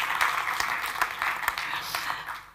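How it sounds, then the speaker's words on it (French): An audience at the Salon de Montrouge 2021 prize ceremony applauds, a dense patter of many hands clapping at moderate volume that fades slightly near the end. "Ainsi, oui, applaudissons-les"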